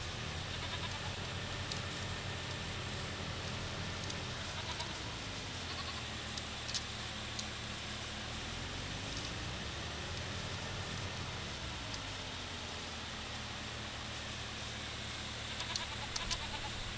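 Goats bleating in Farming Simulator 25, a few drawn-out wavering calls at moderate distance under steady rain-like background noise, with no talk.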